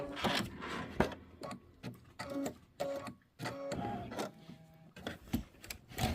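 An embroidery machine stitching a tack-down on a Kimberbell butterfly quilt block runs in close, loud bursts of rapid mechanical ticking and whirring, with brief pauses between runs.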